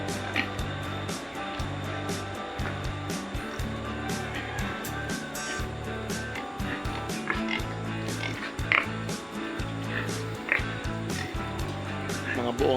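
A pig grunts and oinks in short irregular bursts near a chicken waiting for the pig's leftover feed, with clicks and knocks around it and a voice talking at times.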